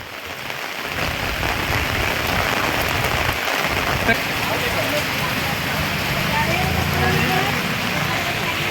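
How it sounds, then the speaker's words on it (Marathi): Heavy monsoon rain pours down steadily at a weekly market in Rajapur, a dense continuous hiss of drops hitting surfaces, with a low rumble underneath. "छान पाऊस पडतोय तसंच"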